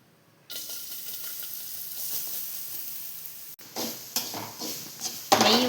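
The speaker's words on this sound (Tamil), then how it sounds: "இப்போ இதை நெய்யில் போட்டு வறுத்துக்கலாம்." Grated coconut roasts in ghee in a pan for a sweet pooriyan, giving a steady close sizzle with scraping stirs and pan knocks that grow louder toward the end.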